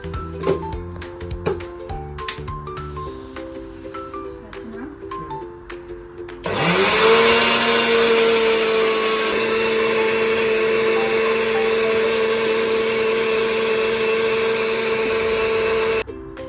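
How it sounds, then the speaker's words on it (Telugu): A kitchen mixer grinder whirs loudly and steadily for about ten seconds, grinding a cooled, roasted homemade weight-loss powder, after some clatter and handling noises at the start. "ఇది మిక్సీ వాడుతుంది."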